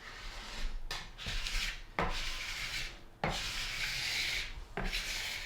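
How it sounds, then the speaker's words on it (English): A plastic scraper pushed across waxed ski or snowboard base makes repeated close rasping scrapes, four or five strokes of about a second each, separated by short pauses and sharp taps as the scraper is lifted and reset. "You can see I'm pushing the scraper. I'm not digging in."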